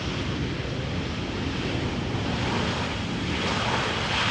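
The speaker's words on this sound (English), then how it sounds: "mostly because the wind is slowing down a little bit" Strong crosswind roars steadily at Amsterdam Schiphol Airport, a dense, even rushing buffet across the microphone that stays loud and unbroken throughout.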